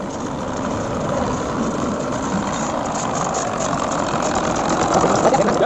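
A tractor engine idles in a steady, continuous drone that holds at an even loudness for the whole stretch, with no clear voices over it.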